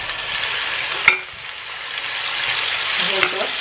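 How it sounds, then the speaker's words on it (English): Butterflied king prawns, dusted and dropped into very hot oil, sizzle steadily in a pan over high heat, with a close, continuous hiss and a couple of sharp crackles and pops. "We want them to just basically sizzle straight away."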